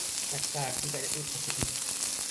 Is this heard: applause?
no